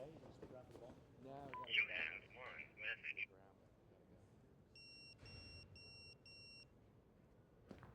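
Phone keypad beeps as messages are checked: four short, evenly spaced electronic tones sound clearly after a stretch of nearby voices talking, with faint background noise throughout.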